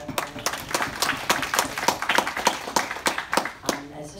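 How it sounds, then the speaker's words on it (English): At a National Association of Women Lawyers gathering, a small audience applauds a panel of women with brisk, evenly paced hand claps that ring out clearly for several seconds. "So I really appreciate one round of applause for these incredible women."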